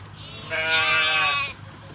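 A single sheep bleats on a farm in Suphan Buri, Thailand, one clear wavering cry lasting about a second, close and distinct over a low background hum.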